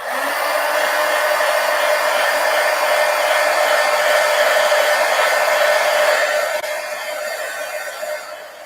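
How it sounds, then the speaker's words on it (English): A hair dryer runs loud and close in a steady whir, blowing on acrylic paint in an adult coloring book, then eases off slightly near the end; no one speaks. "Let's dry that because it's just going to bleed."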